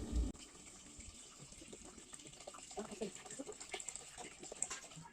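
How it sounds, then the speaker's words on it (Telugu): Water poured into a pot of boti curry (goat tripe) with ginger, turmeric and chilli powder, a soft steady splashing and gurgling that runs for several seconds and stays faint throughout. "నీళ్ళు పోసుకుందాం"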